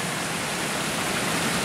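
Creek water rushing and splashing at a mountain bike trail crossing above Colorado Springs, a steady, loud broadband wash filling the whole moment with no voices.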